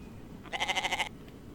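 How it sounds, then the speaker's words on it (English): A goat bleats in the survival video game The Infected, a single wavering call of about half a second, clear and fairly close with no talk over it. "Yeah, okay, goat, I can hear you."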